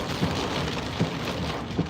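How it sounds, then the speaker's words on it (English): Heavy rain pours down around a car on a delivery run in Bradenton, a dense, steady hiss of water with a few soft dull thumps and no speech. "It is just pouring."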